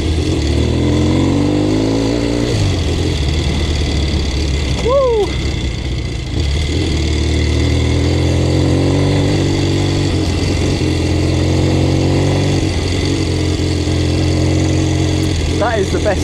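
A motorcycle engine, likened to a 1962 Triumph T120, runs loud and steady close by, its low throb holding for most of the stretch with a few brief revs rising and falling partway through.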